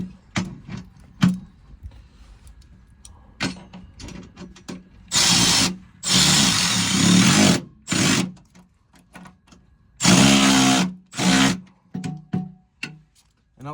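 Power tool tightening bolts on a Dodge RAM Cummins side step, in a series of short whirring bursts and ratchet clicks, some long and loud, others brief, with quiet gaps between.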